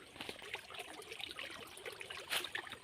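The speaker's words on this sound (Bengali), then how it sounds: "এই জঙ্গলের ধার দিয়েই ওই জমলি নদীটা বয়ে গেছে। আওয়াজটা শুনুন।" Water of the Jamli river trickles and gurgles along the edge of a forest, a soft, fairly quiet, continuous flow with small bubbling splashes.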